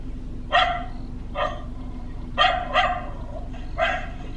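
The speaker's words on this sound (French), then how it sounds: "j'appuie sur l'aboiement de chien de mon application" A recorded dog bark plays from a phone app at a safari waterhole. Five sharp barks come in an uneven rhythm, moderately loud against a steady outdoor hum.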